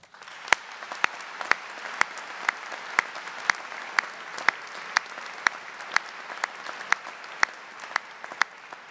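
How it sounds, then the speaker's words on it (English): Warm applause for honoured alumni at a university commencement ceremony, a large crowd clapping steadily throughout, with some single claps standing out sharply above the dense wash. "Let's give those outstanding alumni a warm round of applause."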